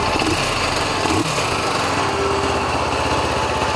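A CF Moto motorcycle with an inline two-cylinder engine runs close by, a loud, steady, buzzing drone with a slight dip near the start, then an even idle throughout.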